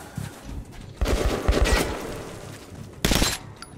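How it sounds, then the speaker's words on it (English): Bursts of automatic gunfire in the Metro 2033 Redux video game, fired at the player: a loud rattling volley, a short pause, then another sharp burst, with no talking. "Somebody's shooting me from up there."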